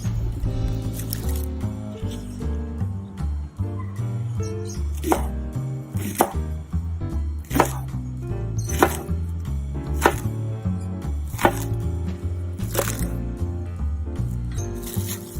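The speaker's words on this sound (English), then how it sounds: "Now I then want to be chopping these up." Knife chopping food into 1 to 1.5 inch pieces on a board for Korean tteokbokki, a steady series of crisp, close thuds alone over a low background hum.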